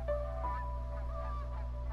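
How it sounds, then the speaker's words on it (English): Geese in the game Unravel Two give a few soft honks over a steady low hum of background sound, fairly faint and without any voices. "Ah, the geese."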